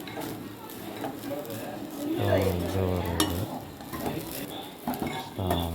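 Grated coconut frying and being stirred in a metal pan, with a spoon scraping and clinking against the pan in steady bursts, close and fairly loud, and a voice talking partway through.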